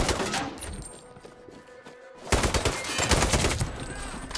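Gunfire in the shooter game Sniper Ghost Warrior 3, a dense, loud automatic barrage that thins to a lull, then erupts again in heavy rapid bursts that continue to the end.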